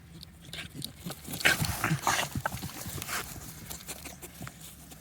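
A dog on a late sunny walk makes soft whimpering whines, moderately close, over scattered outdoor noise and some faint rustling, with no speech.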